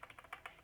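Rapid light clicks of a computer keyboard being typed on to delete text, about eight close, quick keystrokes in an even burst with no talking.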